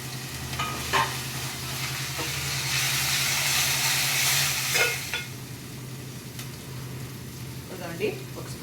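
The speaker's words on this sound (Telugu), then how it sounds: "ఇప్పుడు ఈ మసాలా ముద్ద కూడా నేను ఇందులో వేసుకుంటున్నాను" Masala paste frying in oil in a pan for a crab curry gives a steady loud sizzle and hiss, with stirring scrapes now and then; a voice is heard over it.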